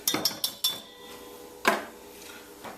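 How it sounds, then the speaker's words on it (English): A spoon clinks and scrapes against a bowl as sauce is mixed, giving several quick sharp knocks followed by a single louder clank and a faint final tap. "I'm just going to give this a good mix, make sure everything is broken down"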